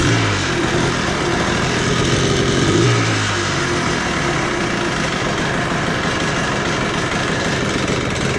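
A Yamaha Blaster ATV's two-stroke engine, fitted with new Boyesen reeds and being tuned on choke, runs steadily and loudly close by, holding a constant buzzing idle with a slight rise near the start.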